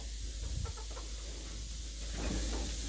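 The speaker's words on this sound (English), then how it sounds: "There's the little Leghorn chicks." Soft, scattered clucking from Leghorn chicks against a loud, constant rumbling background noise.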